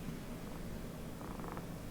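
A pet cat purrs softly and steadily close by, a low continuous rumble in an otherwise quiet room with no talking.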